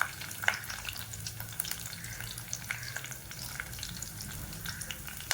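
Sliced onions fry in hot oil for a spicy mutton intestine gravy, a close, continuous crackling sizzle with scattered small pops and spits throughout, no voices.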